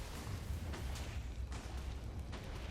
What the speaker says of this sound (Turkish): şöyle görmüş olduğunuz gibi devasa bir patlama yaptı